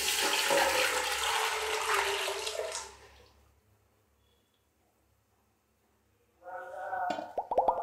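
Milk pours into a pot on the stove in a loud, continuous splashing stream that tapers off and stops, followed by quiet and then a voice talking.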